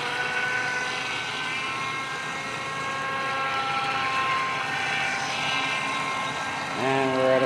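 Double Horse 7009 speedboat engine on a slow run: a steady, droning outboard hum with sustained tonal harmonics that holds close and constant, then swells louder and rises in pitch near the end as the throttle opens.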